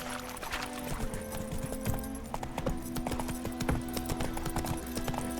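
Roach the horse clip-clops steadily across the ground in The Witcher 3. The quick, even hoofbeats run continuously over a low sustained musical drone.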